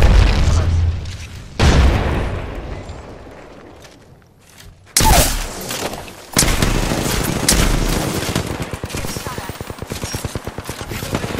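In Apex Legends, a frag grenade goes off with a heavy boom amid bursts of game gunfire and further loud blasts, with rapid repeated shots toward the end.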